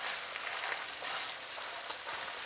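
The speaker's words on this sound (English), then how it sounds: "our stuff is sizzling nicely." Steady, soft sizzling crackle of food frying in a pan, continuous and fairly quiet with no voices.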